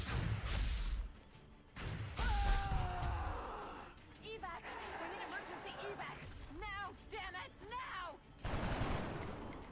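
Gunfire in the video game XCOM: Enemy Unknown, several loud bursts of shots with a stretch of chirping, whooshing effects in between, alongside game sound.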